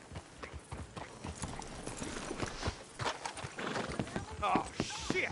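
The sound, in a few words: horses' hooves clip-clopping, from a video game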